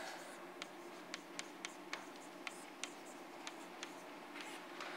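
Chalk or marker tapping and scratching on a board during a physics lecture, a series of sharp distinct strokes spaced irregularly over faint room tone.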